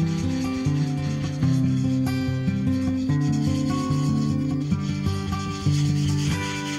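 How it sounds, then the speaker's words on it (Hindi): Steady, continuous scratchy rubbing of a Derwent blending stump on sandpaper, close and loud, with no talking. "इसे मैं एक बार सैंड पेपर पे भी रब कर लूँगा जिससे ये और भी स्मूथ हो जाएगा।"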